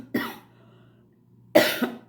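Two separate harsh coughs from an adult woman, each a sharp burst with a short rasping tail, close up, with a quiet pause of over a second between them.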